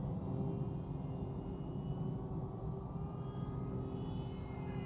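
A ZOHD Dart XL RC plane's electric motor drones overhead in flight, a steady whirring hum with faint tonal whine, moderately distant and without voices.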